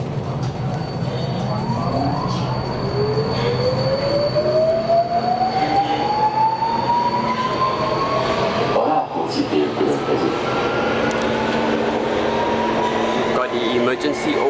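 A French-built Alstom train on Budapest Metro Line M4 runs through the tunnel with a steady rumble and a rising motor whine as it accelerates, continuous and close from inside the carriage.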